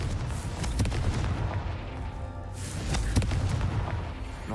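Confringo blasting spell detonating in Hogwarts Legacy, sharp booming blasts with sudden thumping impacts that come in a few quick bursts, loud and punchy against a busy game backdrop.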